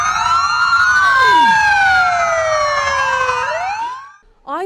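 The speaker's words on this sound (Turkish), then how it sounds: "Siren sesleri bütün İzmir'i inletti." Police convoy sirens wail through İzmir, several loud overlapping sweeping tones gliding up and down close by, with a passing vehicle swoosh, ending abruptly with a brief chirp.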